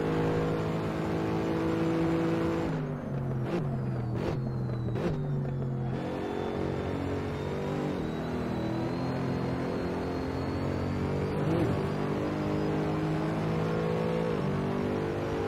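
Mercedes SLS GT3 engine in the racing game Assetto Corsa at Monza, a steady loud drone with several sharp downshift blips and revs around braking zones, continuous and close throughout.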